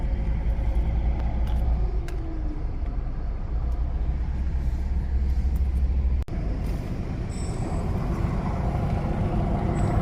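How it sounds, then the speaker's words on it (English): Lorries and other heavy vehicles manoeuvre onto a Turyol car ferry, a steady loud engine rumble throughout with a brief hiss like an air brake, and no talk over it. "They're going to reverse the lorries on first."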